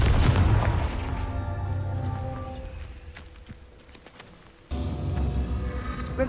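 A Confringo fire spell blast in Hogwarts Legacy bursts loudly at the start, trails off into a ringing fade, then a fresh burst of game sound kicks in near the end.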